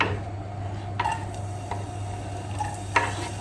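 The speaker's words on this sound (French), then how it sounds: "on fait revenir pour l'instant les oignons et les champignons dans une petite casserole remplie d'huile d'olive" Onions and mushrooms frying in olive oil in a small saucepan, a soft steady sizzle punctuated by a few light clicks of stirring against the pan.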